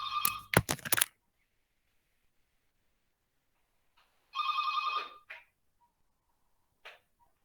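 A telephone rings in short electronic bursts, one ring at the start and another a few seconds later, with quiet gaps and a faint brief blip near the end.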